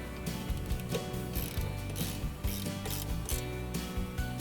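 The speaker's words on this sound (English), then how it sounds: "And then we just want the spanner to tighten it up." A spanner tightens a nut on the cutting cartridge of a Cobra Fortis lawn mower, giving a close, steady run of quick ratcheting clicks for several seconds.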